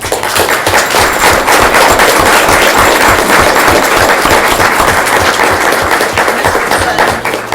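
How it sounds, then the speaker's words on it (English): A school board meeting audience gives loud, vigorous applause for design award student winners, sharp crackling claps packed tightly and held at full strength throughout. "Big round of applause for them."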